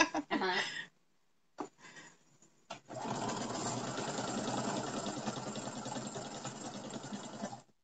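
A sewing machine stitches down pockets, running in a steady rapid mechanical whir for several seconds after brief bursts of nearby talk and short stops.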